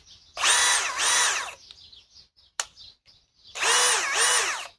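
A four-year-old Ridgid high-torque hammer drill runs in two loud whirring bursts separated by a quiet pause with a sharp knock, then starts up again near the end.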